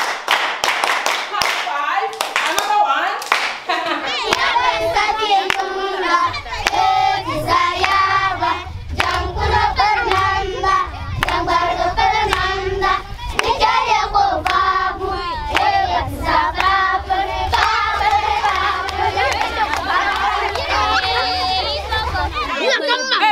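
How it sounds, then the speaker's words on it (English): Children clapping together at an educational play session in Ghana, steady group handclaps close by with lively kids' voices and an adult talking over them throughout. "Clap for him."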